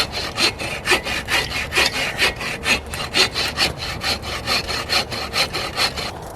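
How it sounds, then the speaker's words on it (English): Wood is cut with a hand saw at a winter campsite, heard as a close, even series of rasping strokes repeating about three times a second, with nobody talking. "And now we saw back to the old saw for the rest of our life."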